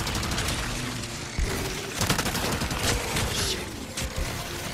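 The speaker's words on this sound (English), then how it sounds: "Now you can parry the machine gun fire." Machine gun fire in the video game Resident Evil 4 Remake: dense, rapid bursts of gunfire with sharp cracks and booms layered over constant loud combat noise.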